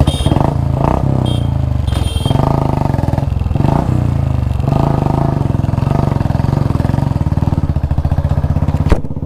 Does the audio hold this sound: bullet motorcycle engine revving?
yes